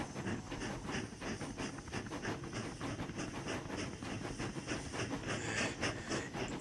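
A model engine straining to pull a heavy train along the line in a Thomas-style railway story, a steady rumble with chuffing hiss and faint rhythmic rail clatter throughout, close and continuous.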